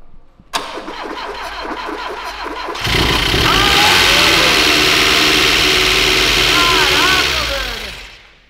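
A Volkswagen Saveiro TSI with a newly rebuilt engine is started cold: the starter cranks briefly, then the engine catches and runs at a loud, high, revving idle that holds steady close by before fading at the end.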